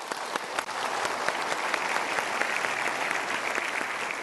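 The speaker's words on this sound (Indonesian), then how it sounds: "Sekarang kita berikan tepuk tangan dulu." A crowd applauds steadily, dense clapping filling the whole stretch at a fairly loud, even level.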